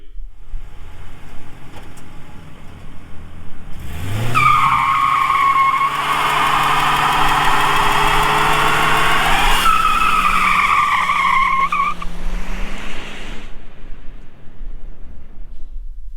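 A Lincoln Town Car with a Ford 4.6 liter V8 spins and skids its tires, a loud, sustained screech that swells in, holds for several seconds and then fades, over a low engine roar.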